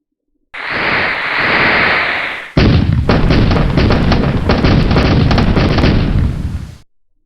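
Fireworks in the Nick Fireworks Factory Clickamajig Shockwave computer game: a loud whooshing launch followed by a sustained barrage of crackling bursts and pops, all synthetic and dense, ending abruptly.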